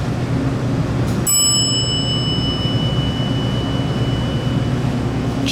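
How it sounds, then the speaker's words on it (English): A single bright chime rings out from a GAL fixture in a Westinghouse traction elevator at a university hall, sharp and clear, then decays slowly over a steady hum of machinery and room noise. "Chimes sound like a GAL."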